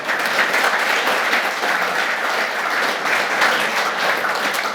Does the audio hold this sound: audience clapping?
yes